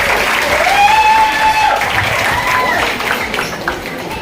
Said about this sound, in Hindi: इन महिलाओं के लिए ताली तो बजाओ।